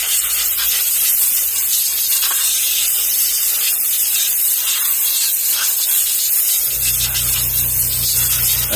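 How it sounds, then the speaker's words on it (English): Compressed air hisses loudly and continuously as it is blown over a Kydex sheath mold to cool it, then a low air compressor hum starts up beneath the hiss near the end. "That's my air compressor kicking on."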